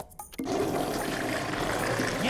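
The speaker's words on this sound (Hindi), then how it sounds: "ये टॉयलेट फ्लश की आवाज है।" A toilet flushes after a few brief clicks, water rushing and gurgling steadily at moderate volume until the end.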